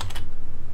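Rapid keystrokes on a computer keyboard as CSS code is entered, a quick run of close, evenly spaced clicks with no talking.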